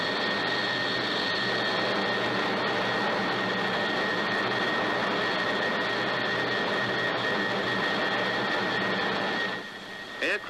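Jet aircraft in high-speed flight beyond its critical Mach number, buffeting: a loud, steady roaring jet engine noise with a high whine, constant for about nine seconds before dropping off near the end.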